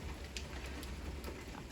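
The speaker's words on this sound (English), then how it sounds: "Y'all hear that rain coming down?" Steady rain falling outdoors, a soft continuous hiss with scattered drops pattering on a surface, fairly quiet and even throughout with no voices.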